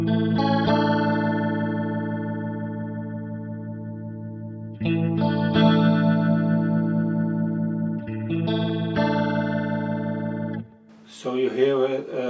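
Guitar chords run through a NUX Roctary rotary speaker effect set to fast mode, with a shimmering, swirling sustain. Three long strummed chords ring out in turn, and a brief burst of different sound closes the clip.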